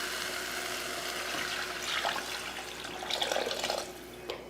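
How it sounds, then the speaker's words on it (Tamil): Tamarind water poured into a cooking pan, a steady liquid splash and trickle that swells in short surges toward the end, moderately close with a constant kitchen hiss underneath and no voices. "இப்போ புளி தண்ணி சேர்த்துடலாம்."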